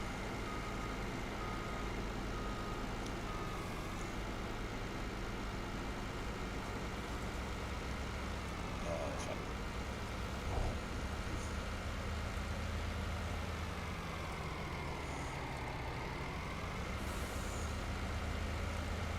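Small truck driving in Farming Simulator 19, a steady engine drone with a low rumble held throughout, slight pitch shifts as it moves, close and alone without talk.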